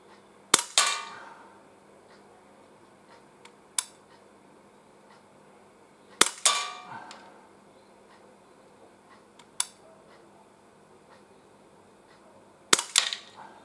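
An Umarex Glock 17 Gen 5 pellet pistol fires three sharp, loud cracks several seconds apart, each followed by a brief ringing clatter of the blowback slide, with small ticks of pellets striking a 15-metre target between shots.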